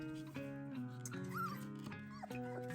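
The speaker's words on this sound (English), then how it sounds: "we are back with the puppies here. They turned 3 weeks old on Saturday." Three-week-old goldendoodle puppies whimper and yip in a steady run of high, wavering cries with several pups overlapping, close by and fairly quiet, with no talking.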